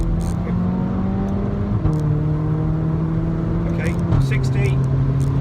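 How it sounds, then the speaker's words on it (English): A Seat Cupra 300 in sport mode, second gear, pulls hard along a dual carriageway, its engine drone steady and close with clear pitch steps at each shift, while someone talks over it. "I'm going to put it into sport. We're in second, coming down the dual carriageway."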